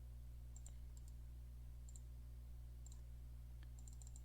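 Computer mouse clicks while copying a link, sharp small taps in pairs and short bursts, faint and close over a steady low electrical hum.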